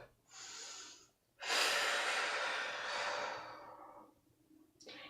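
Slow, deliberate breaths during a seated forward-fold stretch in a stretching workout: a long soft exhale-like rush, a short pause, then a longer full breath that tapers away, with another breath starting at the end.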